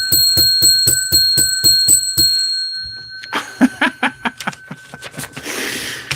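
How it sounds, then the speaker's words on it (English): A bell rings about ten times in quick, even succession, each strike bright and ringing, followed by scattered short bursts that sound like laughter. "I got to ring the bell."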